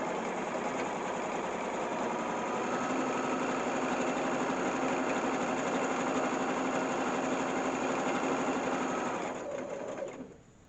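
A sewing machine stitching around a fabric peg bag runs in one continuous, even mechanical whirr for about ten seconds, then slows and stops at the end.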